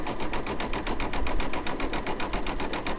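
An embroidery machine stitches a Starbarks dog toy, with fast, even, rapid-fire stitching pulses running loud and continuous throughout.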